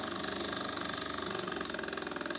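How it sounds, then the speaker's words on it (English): A Burnac Vulcan model steam engine runs steadily after its flywheel has been trued, giving a fast, even mechanical chuffing and clatter that stays close and loud throughout, with no talk. "The difference in the way the engine now runs is quite remarkable."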